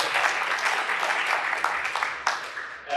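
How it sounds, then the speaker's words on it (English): A conference audience at a Bitcoin tech talk on the main stage bursts into steady applause, a dense clatter of many hands at moderate distance lasting the full three seconds, with a few sharper claps near the end. "Now you can clap"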